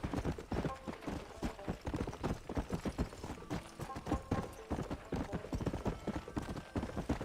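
Horse hooves gallop in a fast, steady rhythm in the video game Red Dead Redemption, loud and close throughout, with a few faint voice sounds underneath.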